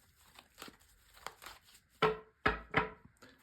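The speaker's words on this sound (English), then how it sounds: "So first of all, a good shuffle." Tarot cards are shuffled by hand: soft papery rustles lead into three sharper riffling bursts near the end, all quiet and close.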